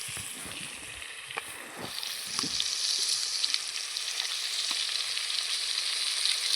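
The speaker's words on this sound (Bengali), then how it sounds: "মাংসটা একটু কিছুক্ষণ ভেজে নিলাম খুব সুন্দর করে।" Chicken sizzles steadily in a hot pan with salt and turmeric, a continuous close frying hiss with a few soft clicks and scrapes near the start, no talking.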